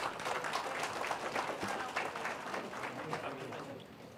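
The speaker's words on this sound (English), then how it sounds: "A warm applause, ladies and gentlemen." Audience applause at a police send-off ceremony for Typhoon Egay, a steady patter of many hands clapping at moderate distance with murmuring voices beneath, easing off slightly toward the end.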